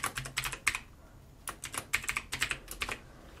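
Rapid bursts of keystrokes on a computer keyboard while entering code, close and crisp, coming in quick clusters separated by brief pauses.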